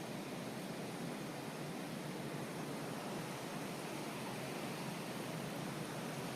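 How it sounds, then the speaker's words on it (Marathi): The Godavari river flows past Ramkund ghat at Panchvati, Nashik, a steady broadband rush of water that holds constant and unbroken throughout, moderately loud with no voices. "गंगा कशी वाहतीये खळखळ."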